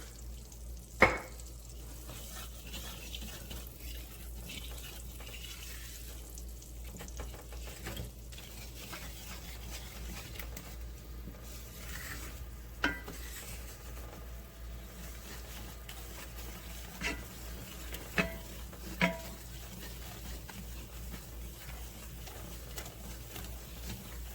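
Cube steak frying in oil in a pan while being stirred, a low continuous sizzle with scraping and a few sharp utensil clicks against the pan, fairly faint and without talk.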